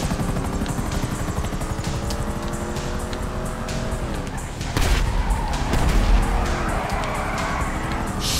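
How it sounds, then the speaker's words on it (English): Steady, loud rotor thrum from a police helicopter in Grand Theft Auto V runs throughout, with engine whine and a burst of tire skidding partway through. "Losing choppers is not easy."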